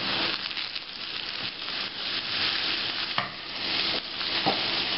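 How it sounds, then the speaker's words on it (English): Breakfast potatoes frying on medium-high heat in a pan, a steady loud sizzle with scraping stirs and flips, a few sharper knocks of the utensil against the pan. "These have been going for about 7 or 8 minutes on this side on medium-high heat. I'm going to give them a little spin and a flip"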